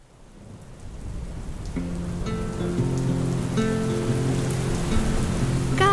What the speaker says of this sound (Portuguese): Cai a chuva lá fora